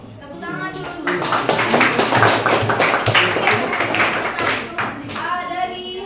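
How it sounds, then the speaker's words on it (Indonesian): Students in a classroom break into a short burst of clapping that swells and then tapers off, with voices talking before and after. "Tepuk tangan dulu"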